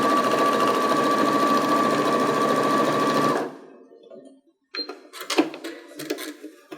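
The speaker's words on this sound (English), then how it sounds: "And you don't need to back tack it, just sew straight across." A sewing machine runs steadily and close for a few seconds while sewing a seam on a fabric mask, then stops, followed by light handling clatter.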